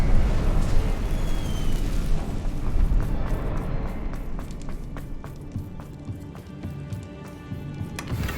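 A Confringo blasting-curse explosion in Hogwarts Legacy erupts as a loud, deep boom with a rumbling roar that lingers, followed by crackling debris and clattering impacts.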